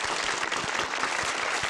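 Studio audience applause fills the moment, a steady dense wash of clapping with rhythmic heavier claps, loud and continuous throughout.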